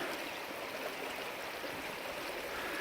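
A creek in the Lusk Creek Wilderness of Shawnee National Forest, Illinois, rushes steadily during a crossing, giving a constant broadband wash of flowing water that stays fairly soft.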